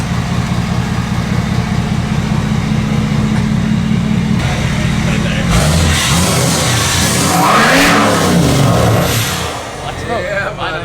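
A diesel truck fitted with a louder aftermarket exhaust idles with a low throb, then revs up in rising and falling sweeps before settling back, while people talk over it.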